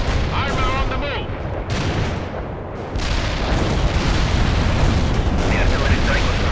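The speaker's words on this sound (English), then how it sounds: "The artillery strike was right on the coordinates." Heavy artillery strike in the video game World in Conflict: dense, sustained rumbling blasts and booming impacts that keep building and stay loud throughout, with faint radio-style voices mixed in.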